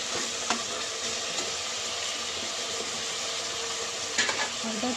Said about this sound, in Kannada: ಇದನ್ನು ಫ್ರೈ ಮಾಡಿಕೊಂಡು ಸ್ವಲ್ಪ ಫ್ರೈ ಆಗಿದ ತಕ್ಷಣ ಸ್ವಲ್ಪ ಫ್ರೈ ಮಾಡ್ಕೊಬೇಕು.